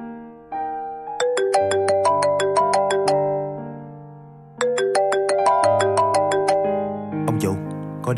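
A melodic electronic ringtone of rising chime-like notes plays in two loud bursts, in a gangster drama scene with a chess game, cutting off abruptly at the end.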